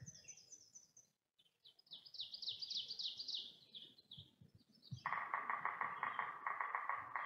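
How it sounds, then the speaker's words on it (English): Birds, including a woodpecker, call on a foggy morning beside calm water at a backcountry campsite, with quick chirps and trills first, a short hush, then a loud, steady run of repeated high notes that carries to the end. "woodpecker."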